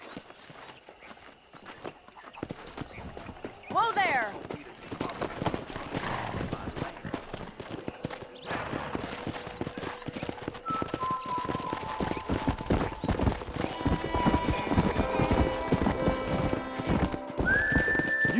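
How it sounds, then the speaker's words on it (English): Horses from the video game Red Dead Redemption, with steady clip-clopping hooves and a loud whinny early on. A man calls out briefly, and game music and tones swell toward the end. "That ranch hand said there's a pack of wild horses nearby."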